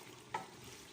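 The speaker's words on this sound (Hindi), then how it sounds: "अब मैं इसको भून लूँगी अच्छा सा।" Meat and tomatoes fry in a pot, giving a steady soft sizzle with one brief stirring scrape. The sound is quiet and close, with no voices.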